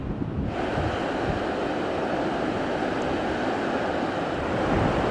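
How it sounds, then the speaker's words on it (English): Sea waves crashing on the shore at Foz, a loud, continuous wash of surf mixed with wind buffeting the microphone, steady and close with no voices. "had a look at the sea and listened to the sound and the power of it"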